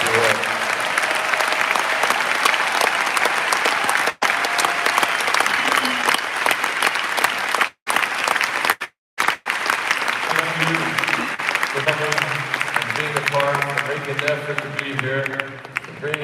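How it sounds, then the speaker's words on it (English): Sustained loud applause from a convention audience fills the hall, dense and continuous, with brief dropouts and a speaker's voice rising over the clapping toward the end. "Let's give them a round of applause."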